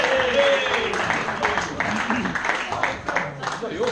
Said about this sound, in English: So we have a round of applause for Nigel and the Pie Man.